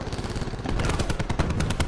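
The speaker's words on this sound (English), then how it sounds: "We're getting shot." Rapid automatic gunfire in the Call of Duty Blackout video game, a dense burst of close, loud shots rattling in quick succession with no talk over it.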